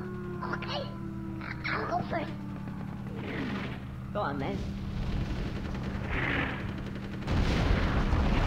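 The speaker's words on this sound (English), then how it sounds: "Missiles being dropped at us." Missile explosions in Conker's Bad Fur Day, set in a World War Squirrels battle: several heavy booming blasts land amid gunfire, with a louder burst near the end and voices talking throughout.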